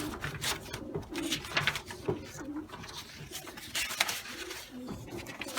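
Racing pigeons cooing in a loft, repeated soft throaty coos in irregular bursts over a busy background of rustling and faint chatter nearby.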